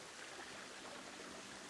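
A large waterfall in the Planet Zoo video game set in a jungle zoo, giving a steady, soft broadband rush of falling water with no other sounds over it.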